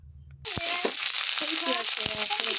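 Chopped onion and curry leaves sizzle steadily in hot oil for poha, a quiet moment giving way to a loud, continuous crackle with a few sharp pops and clinks from stirring.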